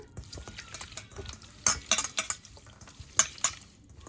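Small fish are gently turned by hand with salt and turmeric in a bowl, giving soft wet squelches and light clicks in short irregular bursts, close and fairly quiet, with no talking.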